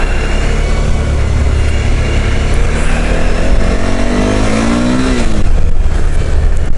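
A 2014 Suzuki V-Strom 1000 ABS motorcycle engine drones loudly and steadily, then pitch climbs as the throttle opens and revs build near the end, with wind-like roar throughout.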